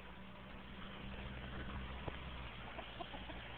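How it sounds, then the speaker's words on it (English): Backyard chickens, a rooster among them, cluck softly at close range in a few brief calls over a steady low hum, with no voices. "these are the first chickens that I ever got"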